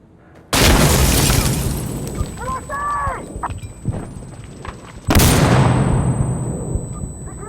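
Two sudden, loud blasts about four seconds apart mark a grenade explosion in the shooter game Insurgency Sandstorm, each followed by a decaying rumble, with gunfire and a shouted voice in between.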